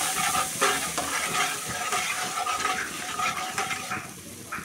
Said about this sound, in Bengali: এখন সুন্দর করে মশলাটা কষতে থাকবো